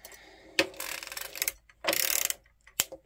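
A hand-cranked circular sock knitting machine turns in two ratcheting, gear-clattering bursts, with sharp mechanical clicks between them, heard close and alone.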